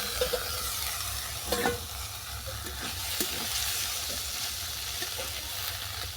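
Potato and bottle gourd peel are stirred in a hot pan, with a continuous sizzle under repeated scraping strokes of the spoon, close and fairly loud.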